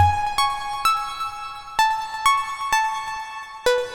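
A bright, buzzy square-wave synth tone plays a stepped pattern of sustained notes, each new pitch starting with a sharp attack, alone and fairly loud.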